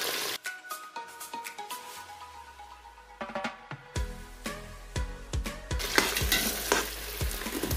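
Onion hits a hot pan for a tomato stew, and a loud sizzle swells and hisses while a spoon clacks and scrapes repeatedly against the metal.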